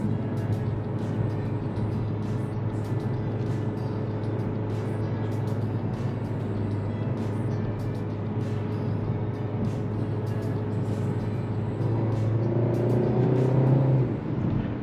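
A 2023 Kia K5 GT Line accelerating, heard from inside as a steady droning engine and road noise that swells slightly in pitch and loudness near the end.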